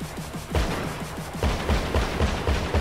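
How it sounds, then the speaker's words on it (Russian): Explosions and bursts of gunfire in the video game GTA 5, a rapid run of sharp shots followed by a series of heavier booming blasts, loud and continuous with no talking. "О, какие-то взрывы там происходят."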